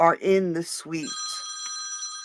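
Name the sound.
alarm going off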